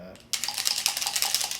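Dense, rapid clattering of dice shaken inside a dice cup, a continuous close-up rattle lasting over a second after a brief quiet start.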